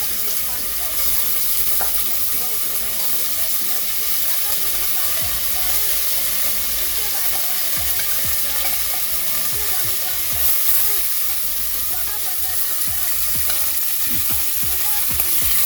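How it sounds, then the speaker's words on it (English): Seasoned oxtail searing in hot oil for a Jamaican oxtail dish, a steady close sizzle and hiss with scattered pops and occasional stirring scrapes running the whole time. "So I'm going to add it in the oil to sear it."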